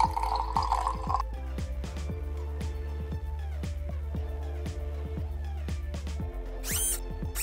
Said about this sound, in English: And pour it into the bottle.